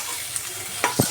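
Pasta being stirred with spices in a pan, a few soft scraping strokes near the end over a faint background hum.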